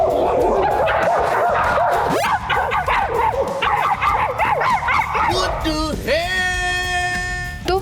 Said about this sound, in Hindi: अब जब हम यहाँ हैं कुत्ते के साथ खेलेंगे